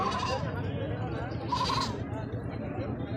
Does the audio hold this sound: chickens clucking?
no